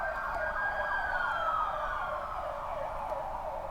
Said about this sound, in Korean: 여기 주변에 병원이 있어서 좀 이런 식으로 사이렌 소리가 많이 들리네요.